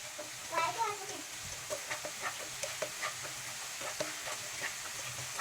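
Chili powder, cumin and fennel are sautéed over a low flame with a soft, fairly faint sizzle and occasional utensil scrapes, while brief muffled background sounds and distant voices surface early on.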